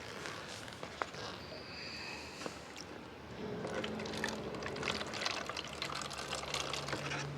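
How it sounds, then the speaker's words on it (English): Distilled water is poured into the bottom of a container, a soft liquid trickle and splash that swells into a steadier filling sound partway through, quiet and close with no talk. "we're going to put first a little bit of distilled water in the bottom"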